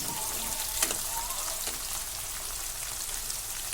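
Ginger garlic paste frying in oil while being stirred, giving a steady, soft hiss of sizzling with faint crackles throughout and no voices.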